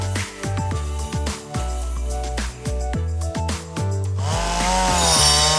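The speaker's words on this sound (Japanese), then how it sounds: "チェーンソーを使って木を倒し間引く作業です。" A chainsaw felling trees for forest thinning in a planted forest revs and bogs repeatedly as it cuts, loud and close, the engine pitch rising and dropping in uneven bursts.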